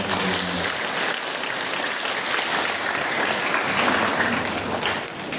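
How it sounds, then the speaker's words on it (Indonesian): Congregation at a First Communion Sunday Mass in a parish church applauding for the children, a loud, steady wash of many hands clapping that holds throughout. "Jadi tepuk tangan lagi."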